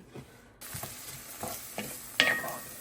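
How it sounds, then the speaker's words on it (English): Onion and garlic sizzle in a pan with a few scraping stirs, the frying growing louder after a brief quiet start and ending with a sharp clatter. "I'm going to cook up the garlic and the onion until the onion is translucent"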